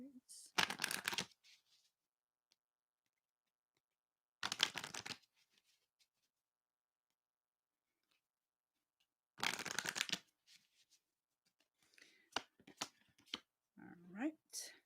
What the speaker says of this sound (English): I'm just going to pull a few cards.